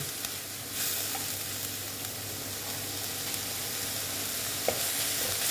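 A spice paste for potato curry fries in a pan with a steady, fairly loud sizzle that goes on throughout, broken only by an occasional light clink or stir.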